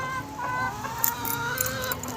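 Rescued battery hens cluck softly and continuously on a hobby farm as they join a flock, with a few sharper calls rising briefly over the steady clucking.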